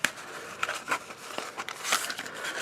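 A plastic recycling bag packed in a Samsung smartphone box is handled up close, giving quiet, irregular crinkles and rustles over a few seconds.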